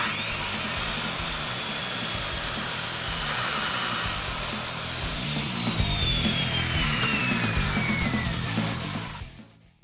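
Power saw cutting a board held against a Square Cut guide, a steady loud whining drone that holds for nearly ten seconds before cutting off abruptly at the end.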